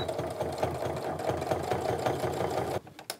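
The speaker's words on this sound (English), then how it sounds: "I'm gonna back stitch again when I get to that end, just to get everything nice and secure." A sewing machine runs steadily, top stitching along a tote bag with a rapid even mechanical chatter, close and loud, then stops abruptly near the end, leaving a couple of faint clicks.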